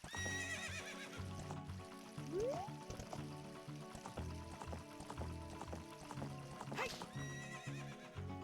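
Horse neighing in Ocarina of Time, a rising whinny over game music and hoofbeat-like clip-clops, with another whinny later in the passage.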